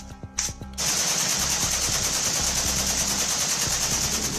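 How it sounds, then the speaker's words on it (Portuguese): Rapid automatic fire from an AK-47 rifle rattles continuously after a few separate shots, a dense, loud, unbroken burst that fills the rest of the clip. "um fuzil AK-47, capaz de dar 600 tiros por minuto"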